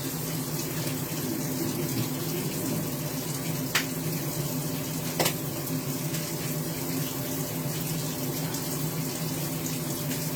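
Kitchen tap water runs steadily at moderate distance while broccoli crowns are rinsed under it, with a continuous splashing hiss and a couple of small clicks, no talk.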